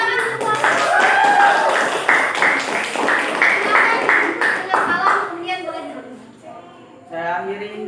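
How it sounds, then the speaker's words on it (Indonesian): Classroom clapping from a group of students after a group presentation, a dense burst of hand claps for about five seconds that fades out, followed by children's voices talking. "Tepuk tangan semua."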